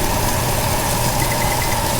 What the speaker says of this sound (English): Let me just turn off the exhaust here.